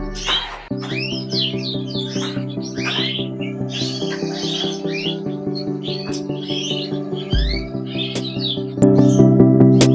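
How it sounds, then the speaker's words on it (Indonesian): Caged canaries at a breeding farm sing in dense, continuous warbling trills and chirps, several birds overlapping close by, under a steady low mechanical hum that grows louder near the end. "Kita main ke rumah Om Andri, kita lihat peternakan kenarinya."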